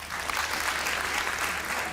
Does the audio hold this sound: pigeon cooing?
no